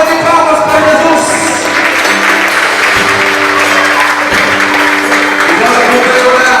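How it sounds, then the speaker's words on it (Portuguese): Church congregation applauding during a worship service, a loud, continuous wash of clapping from a large crowd, with sustained organ or keyboard tones underneath. "Dê uma salva de palmas para Jesus."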